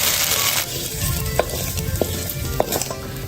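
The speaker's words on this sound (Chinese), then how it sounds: "倒点油把豆腐煎一下，" Diced tofu fries in oil in a pan, a loud, continuous sizzle close up, with a few light clicks of a utensil stirring through the hiss. No one talks.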